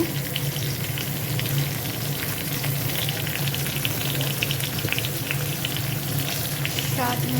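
Taro stolons fry in a pan with onions and turmeric, producing a steady, dense sizzle that stays loud and close throughout, with faint stirring scrapes.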